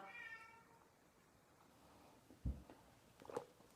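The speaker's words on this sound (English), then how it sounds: "the cat is calling to me now" A cat meows faintly in the distance over quiet room noise, with a soft thump and a short, higher call near the end.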